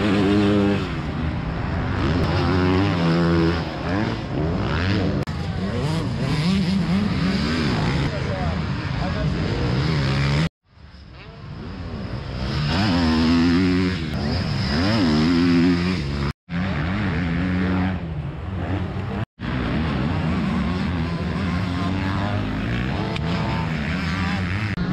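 An 85cc motocross bike is ridden around a dirt track in Bellême, its two-stroke engine loud and close, revving up and down continuously, with brief cuts in the sound.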